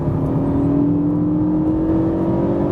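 Renault Megane RS 265 hatchback with a turbocharged engine, revving steadily with a rising tone as it climbs toward the red line, loud and close, no talk.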